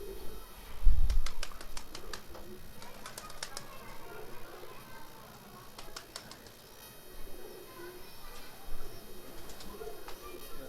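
Breeder pigeons coo softly and repeatedly close by, with a brief wing flap near the start and scattered faint chirps throughout.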